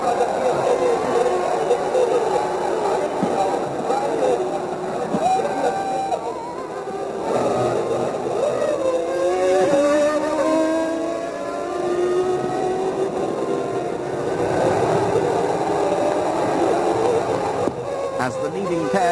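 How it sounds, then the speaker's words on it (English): Formula One race cars from the 1994 season, including a Benetton, scream past with high revving engine notes that rise and fall, heard under continuous race commentary. "Already pulling well clear at the front, Berger leads with the nose of Schumacher's Benetton pushed right up under the rear wing of the Austrian"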